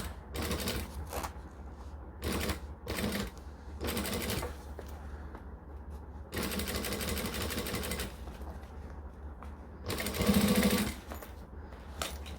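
A sewing machine slowly attaches piping on a Donna garment, running in several short, stop-start bursts of close, fairly quiet stitching with brief pauses between them.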